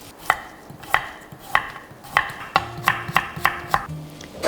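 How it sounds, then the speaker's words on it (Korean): Carrots are julienned with a knife on a cutting board: crisp, close chopping knocks, first spaced about half a second apart, then coming faster and more evenly. "당근도 채를 썰겠습니다."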